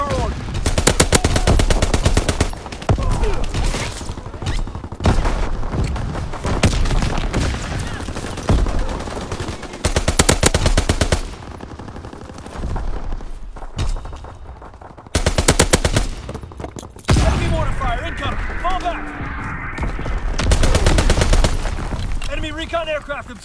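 Rapid, heavy machine-gun fire from an enemy aircraft strafing run in Call of Duty: WWII, during a Domination match on the Shipment 1944 map. Dense bursts and rattling volleys repeat loudly across the whole stretch, with brief in-game voice callouts mixed in.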